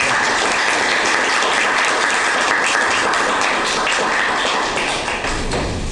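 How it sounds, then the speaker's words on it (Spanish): Strong, continuous applause from an audience at a book presentation for "Genealogía de la Familia Bolognesi," honouring its author; the dense clapping holds steady and tapers just before the end. "Un fuerte aplauso."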